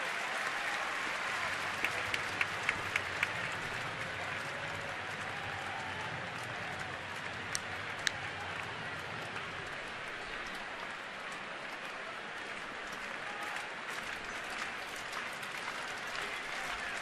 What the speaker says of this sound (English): Here comes the 2-strike clap again from a big crowd